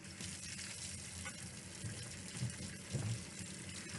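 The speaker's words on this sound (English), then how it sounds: "I'm going to wash my hands right now." Kitchen tap running steadily while hands are washed after handling raw meat for gumbo, a soft continuous splash and gush with small shifts as the hands move under the stream.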